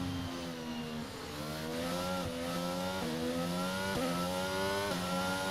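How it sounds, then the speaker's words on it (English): Mercedes Formula 1 engine in the racing game F1 22, a loud, close high-pitched whine climbing through repeated gear shifts, each upshift dropping the pitch before it rises again, with no talking. "What's this, a Mercedes engine? That sounds much better."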